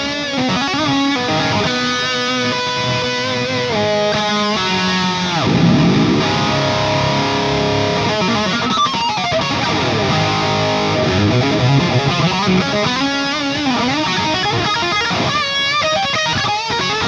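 Electric guitar played through a free amp plugin with edge-of-breakup tone, a loud, continuous run of sustained chords and bending lead notes with mild distortion.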